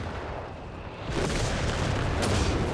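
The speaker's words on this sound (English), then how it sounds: "Airburst artillery coming down from the Allies" Airburst artillery fire in Company of Heroes 3, in a 4v4 winter battle. It starts as a low rumble, then a loud, sustained wash of booming blasts takes over about a second in and keeps rolling without a pause.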